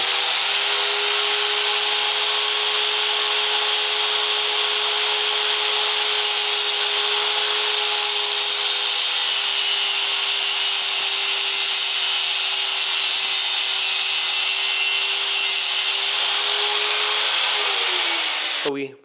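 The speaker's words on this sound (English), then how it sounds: "I'm going to cut with an angle grinder just that little piece right there to make it a hook" An angle grinder cuts the end off a bolt to form a hook during a snow blower restoration, a loud, steady high-pitched whine with a constant tone lasting nearly twenty seconds before spinning down at the end.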